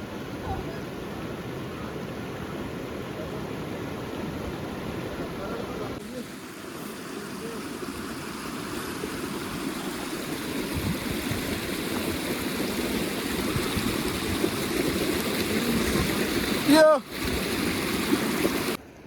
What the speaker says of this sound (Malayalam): അരുവിയിലെ വെള്ളം എത്രമാത്രം തെളിഞ്ഞതാണല്ലേ